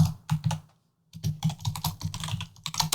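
Rapid keystrokes on a computer keyboard while typing code for a Godot game project, a dense close clatter of key presses with a brief pause near the start, no voices.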